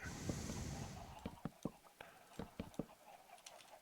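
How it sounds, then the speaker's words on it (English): Sharp, short clucks and pecking-like pops from Minecraft chickens repeat irregularly over a soft background hiss, at moderate distance. "Chickens are noisy chickens."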